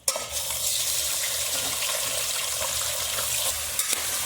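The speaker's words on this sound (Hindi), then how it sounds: "अब डाल रहे हैं चिकन।" Chicken pieces dropped into hot oil already holding cloves and cardamom, giving a steady, fairly loud broadband sizzle and crackle that holds evenly throughout without any speech.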